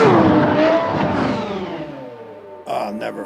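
Ferrari 312 race car engine revving loud and close, pitch sweeping down as it passes, then a sharp burst of revs at the end.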